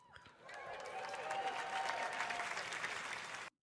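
An audience at a Pixel 8a smartphone demo breaks into applause that swells quickly, holds dense and steady for about three seconds, then cuts off abruptly.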